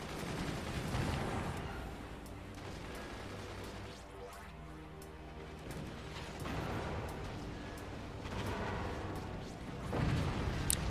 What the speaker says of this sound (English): A beautiful cannon shot.